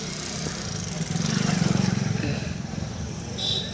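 A 2010 Swraj 735 FE tractor at the Malout tractor market rumbles with a low, pulsing diesel engine note that swells in the middle and then eases, with market voices and background noise around it.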